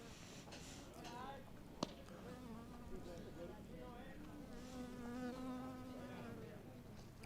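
A bee buzzes close to an on-field microphone at an American Legion baseball game, a steady droning hum running through the whole stretch beneath a commentator's voice and ambient field noise, with one sharp click partway through.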